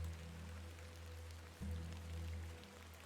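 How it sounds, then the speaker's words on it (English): Steady rain falls in the video game The Excavation of Hob's Barrow, a continuous soft hiss over a low droning hum, with a brief dip and swell partway through and no voices. "A bit of rain won't kill me"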